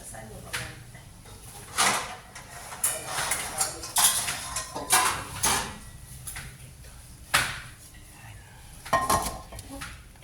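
Metal frying pan (kawali) rattled and clanked while being searched for in a kitchen, with repeated scraping, knocking and clattering bursts of pans and utensils, a voice talking intermittently.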